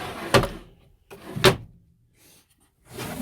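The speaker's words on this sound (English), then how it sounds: "We got drawers here" Drawers in a DIY camper slid open and shut, two sharp, close thumps a second apart followed by softer sliding rattles, with no talk.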